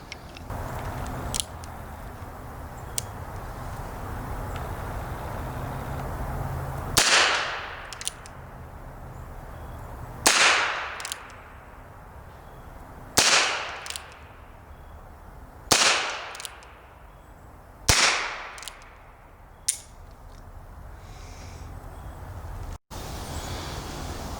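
Sharp, near gunshots from an old Star semi-automatic pistol firing .22lr handloads with 1 grain of Clays powder ring out at irregular intervals, about six or seven cracks, each followed by a brief echo over quiet outdoor background.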